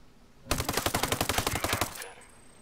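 A loud, close burst of rapid automatic gunfire in the shooter game Ghost Recon Breakpoint, about a dozen sharp shots in quick succession lasting around a second and a half, then fading into quiet.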